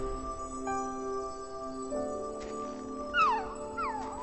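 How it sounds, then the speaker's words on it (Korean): A puppy, a cartoon stray in winter, gives a few thin high whimpers and yips near the end, over sustained musical tones at moderate loudness. "멍멍이 소리다!"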